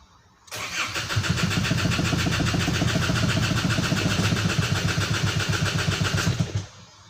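An Isuzu D-Max 3.0 diesel cranks and fires up after a fault code is cleared, then settles into a loud, steady, rhythmic close idle for several seconds before cutting off, no voices.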